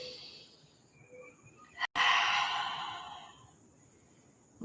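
A single deep breath during a yoga stability flow: a soft inhale rises, then after a brief gap a long, breathy exhale that fades slowly, close and quiet.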